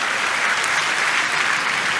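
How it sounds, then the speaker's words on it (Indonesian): A church congregation bursts into enthusiastic applause during a service, a dense, even, sustained roar of many hands clapping at once, loud and continuous with no speech over it. "boleh tepuk tangan yang paling meriah buat Tuhan"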